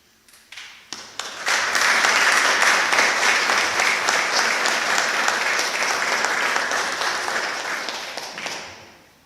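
Graduates at the Griffith College Cork graduation ceremony break into applause, starting with a few scattered claps that swell into sustained, loud clapping from a large crowd before tapering off near the end.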